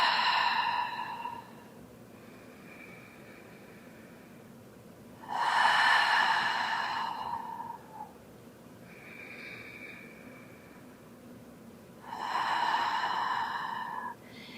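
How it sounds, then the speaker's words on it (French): Long, deep breaths drawn in through the nose and released through the mouth during a yoga session, three slow breathing cycles with loud exhales and quieter inhales, close and alone with no talking. "On prend quelques respirations longues et profondes en inspirant par le nez, en expirant par la bouche"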